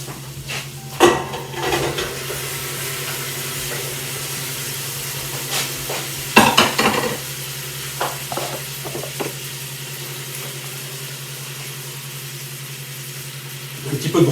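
Beef chunks sizzle and hiss steadily in a hot pot with carrots for a Karmeliet beer carbonade, with occasional clinks and stirring knocks over the continuous frying.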